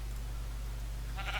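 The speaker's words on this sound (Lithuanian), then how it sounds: "Ar avys tenais va viršui, gal ir jūs girdite, bent aš girdžiu." A sheep bleats in Minecraft 1.7.2. After a quiet stretch of low game ambience, one short, faint bleat comes near the end.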